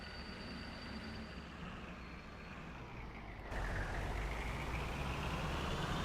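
Truck engine in Farming Simulator 22, a low steady drone that steps up louder partway through as the revs rise, with faint beeping tones above, no talking.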